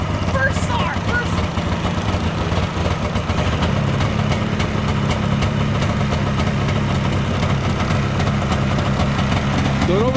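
A 1978 Polaris Cobra 440 snowmobile, abandoned for over 20 years, runs with a loud, steady, rough engine drone close by, while people talk over it.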